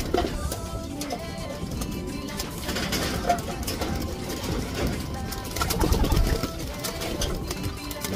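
Pigeons coo softly amid a busy mix of wing flaps and bird activity, steady and close, with faint background murmuring.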